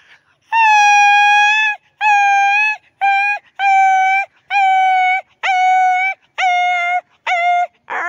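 A voice imitates a dog in a series of about nine drawn-out, tonal wails, each around a second long. The calls are close and loud, with short pauses between them and no other sound.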